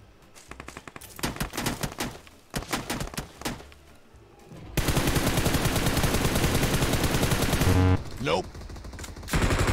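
Gunfire in the mobile battle royale PUBG Mobile: bursts of separate shots early on, then a loud, continuous automatic barrage of about three seconds, followed by a few scattered noises.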